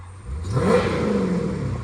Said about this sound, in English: let's go ahead and give it a little rev here so you can hear this engine